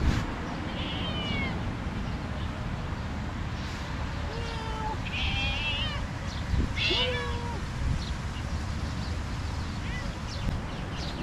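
Several cats meowing outdoors after being called, a scattering of short rising and falling meows at varying distances over a steady background of ambient noise, with a person speaking briefly.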